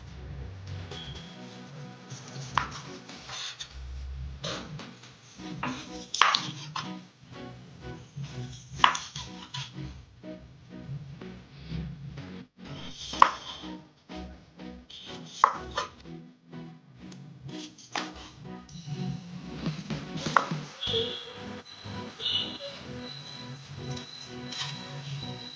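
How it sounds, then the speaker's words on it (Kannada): Knife strokes cutting cooked, cooled pork on a board in a home kitchen, irregular sharp taps and chops scattered across the stretch, quiet and close, with no voices. "ಫೈನಲ್ ಆಗಿ ಪೋರ್ಕ್ ಎಲ್ಲ ತಣ್ಣಗಾಗಿದೆ. ಇದನ್ನ ಕಟ್ ಮಾಡ್ಕೊಳ್ಳೋಣ."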